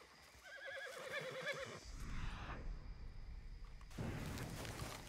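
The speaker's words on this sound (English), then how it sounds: "Oh, damn, the horse." In the video game Red Dead Redemption 2, a horse gives a clear whinny at the start. Low rumbling impacts and heavy background noise follow it, and no one talks.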